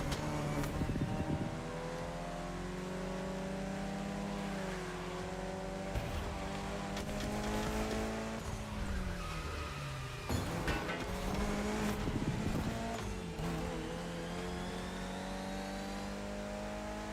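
Race cars in a motorsport video game, engines revving and shifting pitch through gears over a continuous drone, with sharp bursts and tire squeals as several cars roar past close by.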